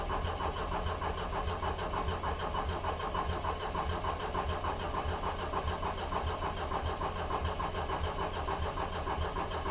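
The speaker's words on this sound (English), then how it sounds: "I can prime my oil system without firing the motor" A 1.9L ALH TDI diesel swapped into a Mk1 VW Rabbit cranks steadily on the starter without firing, a continuous rhythmic churning that holds at an even level throughout.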